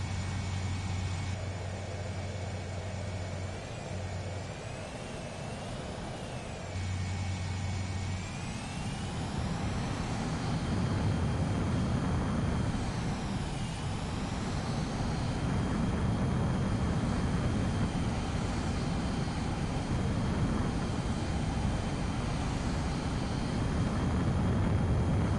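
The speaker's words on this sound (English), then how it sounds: "You are cleared for takeoff." Fighter jet taking off in the Ace Combat 7 video game, a loud, steady jet engine roar that swells into a broad rushing blast with rising whine, continuous throughout at close range.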